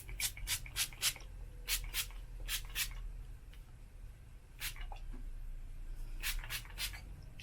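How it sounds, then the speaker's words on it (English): Several short, sharp bursts of heat protectant spray hiss close by onto hair, some in quick pairs and triples, separated by quiet pauses. "I'm just going to go ahead and spray this in my hair now"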